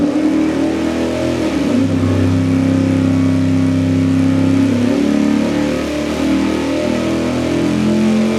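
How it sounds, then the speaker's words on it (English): Big-block V8 engine running on a dyno with a Brodix intake manifold, loud and close, its revving rises and falls through shifting tones across the whole stretch. "let's fire it up and run the Brodix intake manifold."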